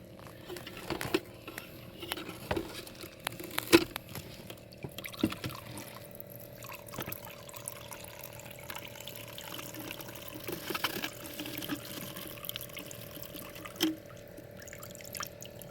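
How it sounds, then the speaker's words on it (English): Fuel poured from a container back into the tank of a 2006 Ford Escape Limited during a fuel pump replacement, heard as a soft, uneven liquid patter and trickle with small drips, fairly quiet and steady throughout. "We'll pour that back in the tank."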